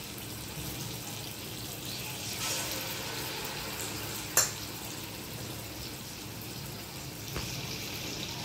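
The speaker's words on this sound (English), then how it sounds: "so now let's start frying" Ripe bananas for Goan banana filos frying in hot oil, a steady continuous sizzle with one brief sharp clink midway and a smaller tap near the end.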